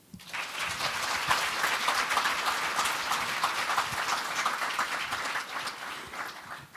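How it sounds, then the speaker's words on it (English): Steady audience applause for the organizers at the opening of a youth forum, a broad wash of many hands clapping that rises quickly and holds at moderate loudness before tapering. "let's give applause to all the organizers"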